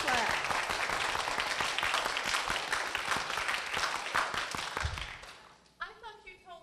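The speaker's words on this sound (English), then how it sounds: "Please clap." Audience clapping in a hall as people vote on a suspect, a dense steady round that tapers off near the end, followed by a few scattered claps and faint voices.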